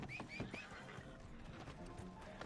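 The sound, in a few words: horse whinnying in Red Dead Redemption 2 Online video game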